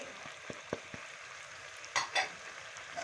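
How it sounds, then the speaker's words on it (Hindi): Tomatoes fry with masala spices in a pan under a soft, steady sizzle. A few spoon taps and stirring scrapes break through, with a brief louder stir near the middle. No one speaks. "अब इसे हम मसाले को इतनी देर भूनेंगे कि हमारे टमाटर बहुत अच्छे से सॉफ्ट हो जाए"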